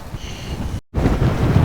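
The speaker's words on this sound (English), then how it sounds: "we've got some more gusts coming through there, that's over 20 mile an hour" Strong wind gusting at over 20 mph against a Nortent Vern 2 tent, a loud, rumbling buffeting on the microphone that breaks off for a moment and then comes back.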